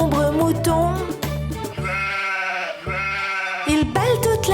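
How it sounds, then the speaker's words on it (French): Sheep bleating on a farm in a children's nursery song, wavering bleat-like tones layered over loud continuous music with a steady rhythmic beat. "Il bêle toute la journée"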